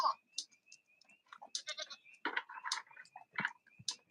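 Several goats bleat in short, scattered cries at a riding-center farm, fairly close, mixed with faint chewing and crunching sounds between the calls.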